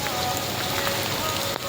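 Steady rain pours down on a surface, a dense, even hiss of many raindrops held close and loud throughout, with no voices.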